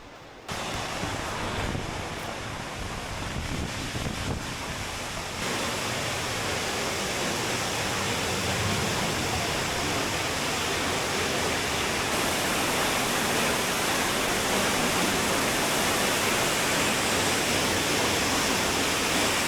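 Hollybush Spout waterfall near Ingleton in the Yorkshire Dales gives off a loud, steady, close-up rush of falling water that stays constant throughout.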